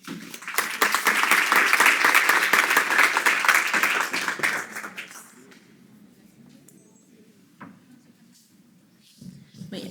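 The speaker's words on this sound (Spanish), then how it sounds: "Un aplauso." An audience applauds as a moderator, a law professor, is called to the stage: dense, loud clapping for about five seconds that then fades out into quiet room noise with scattered small knocks.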